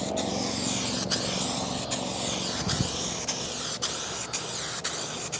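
An aerosol spray paint can, full and brand new, putting a final heavier coat on a 2016 Fiat 500 Lounge, hissing steadily and loudly up close for several seconds with brief clicks, no voices.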